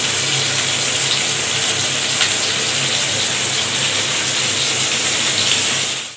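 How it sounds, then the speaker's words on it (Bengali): Fresh river poa fish dropped one by one into hot oil, giving a steady, loud, dense crackling hiss that runs unbroken throughout with no talking. "তেলে মাছ ছেড়ে দেবো একে একে করে।"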